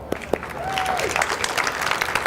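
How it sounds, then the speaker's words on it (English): An audience gives a steady round of applause as volunteers come up on stage, dense clapping throughout with a brief whistle-like tone near the start. "you have to give them a big round of applause"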